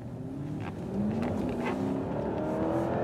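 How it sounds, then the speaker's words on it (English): A 2006 Lexus SC430 engine in sport mode revs up and accelerates hard, its rising whine growing louder and steadier, heard from inside the car with road noise. "I'm coming up to a spot where I can give this car a little bit of gas."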